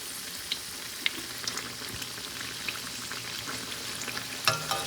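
Sesbania (bok) flowers fry in a pan with a steady crackling sizzle, while a few sharper scraping clicks mark them being turned over near the end.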